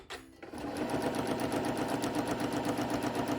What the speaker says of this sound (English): So we'll start sewing here.